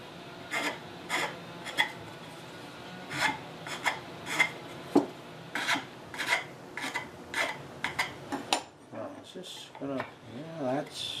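Rhythmic scraping strokes of a rasp chamfering the edge of a wooden stretcher for a Queen Anne chair, about a dozen close strokes at a steady pace, followed by brief murmured talk.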